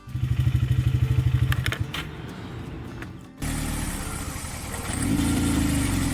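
A misfiring ATV engine, with a bad coil pack wire that makes it die on right turns, runs loud and close in a lumpy, pulsing rhythm, then settles into a rough, steady drone that climbs as it revs.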